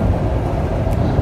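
Inside a moving Taipei MRT metro train, a steady, loud low rumble of the car running on the tracks continues without a break, with no voices.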